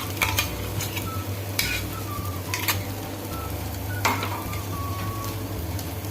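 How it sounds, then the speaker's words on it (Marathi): Tomato puree hitting a hot pan and being stirred for a Malai Methi Matar curry: a steady low sizzle with scattered scraping clinks of a spoon against the pan, moderately quiet and without speech. "आता याच्यामध्ये आपण ही जी बनवून घेतलेली आहे प्युरी ती घालणार आहोत"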